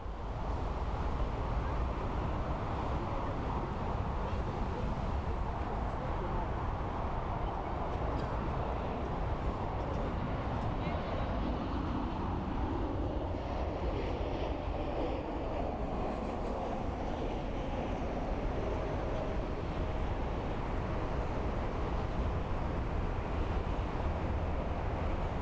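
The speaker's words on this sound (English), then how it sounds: "we have a Sun Express Boeing 737-8AS coming in from Antalya" A Sun Express Boeing 737-8AS jet, 19 years old, landing at Frankfurt Airport after a flight from Antalya, with a loud, sustained close-up engine roar and rushing noise that holds steady throughout.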